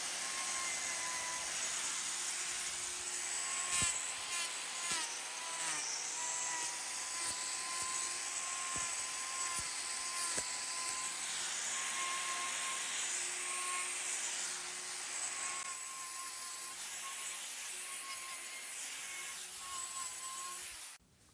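A cow's hoof is trimmed with a high-pitched grinding tool that whines steadily and close up for about twenty seconds, with a few short knocks and scrapes along the way.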